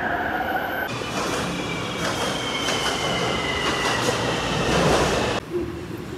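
Steady, loud rumble of a train ride on a rail line, with continuous wheel noise and faint squealing tones running throughout, then an abrupt change near the end as the sound drops and shifts.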